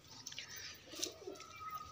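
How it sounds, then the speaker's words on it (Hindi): Pigeons coo faintly on rooftops, a soft low coo standing out briefly over quiet outdoor background noise. "इतने कबूतर घूम रहे हैं कि सोच है आपके।"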